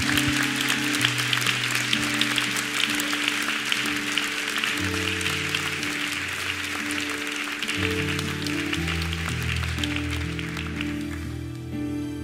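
A church congregation claps steadily and loudly in praise, the applause dense and sustained over background music before tapering off at the end.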